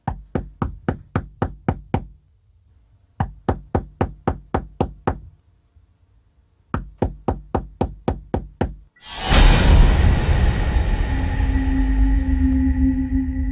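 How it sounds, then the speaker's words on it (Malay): Knocking on the door of a house at night: three bursts of rapid, loud knocks, each about eight raps, separated by short pauses, then a sudden loud crash with a sustained ringing wash after it. "tiba-tiba dengar orang ketuk"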